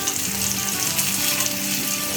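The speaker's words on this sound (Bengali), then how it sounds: "পেঁয়াজটা একটুখানি যখন একটু ভাজা ভাজা হবে একটুখানি" Onions fry in oil in a pan for a fish curry, giving a steady, close sizzling crackle that runs evenly through the moment with no voices.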